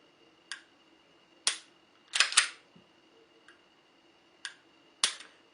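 Dry trigger pulls on a Smith & Wesson Shield Plus pistol, six or so crisp isolated clicks spaced about a second apart, one a quick double snap, close and quiet against near silence.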